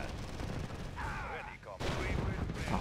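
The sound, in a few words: gunfire in the video game Red Alert 2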